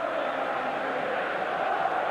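Steady roar of a packed football stadium crowd at Manchester United vs Arsenal in the Premier League, a dense continuous wash of voices with no single standout cheer, filling the whole moment at an even level.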